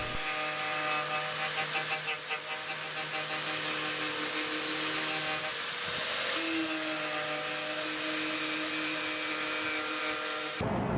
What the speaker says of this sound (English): My least favorite tool, a grinder with a coarse wire wheel attached to it.